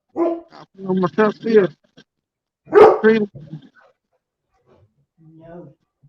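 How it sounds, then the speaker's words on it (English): A dog barks close by in an outdoor catfishing setting, several sharp barks in quick bursts with a pause and a softer bark at the end, loud against a quiet background. "When that dog wants to bark, he's gonna bark."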